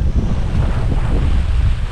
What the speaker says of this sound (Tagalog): malakas lang hangin pasensya na kayo maingay